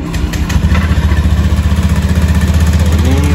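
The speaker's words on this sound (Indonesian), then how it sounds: "Ini waktu mesin masih idle" A motorcycle engine idles close by during a check for bearing noise in the rear final drive, giving a loud, steady, rhythmic low thumping with some rough mechanical clatter; no talking.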